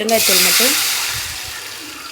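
Ground masala mixture is poured into a pot of tomato, tamarind and pepper rasam, giving a steady, close, splashing liquid rush. A voice speaks briefly at the start.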